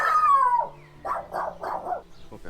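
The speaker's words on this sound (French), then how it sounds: "J'ai entendu un chien." A dog gives a drawn-out whine, then a quick run of four short barks, fairly close and loud in an otherwise quiet outdoor spot.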